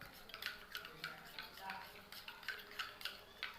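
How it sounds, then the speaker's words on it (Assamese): A homemade face pack mixture being whisked in a small bowl, giving a quick run of light, clicking scrapes and taps at a steady rhythm, close and fairly quiet with no voices. "তাৰপাছত আকৌ ভালদৰে এইখিনি ফেটি লৈছোঁ।"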